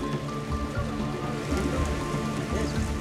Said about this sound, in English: despite the rain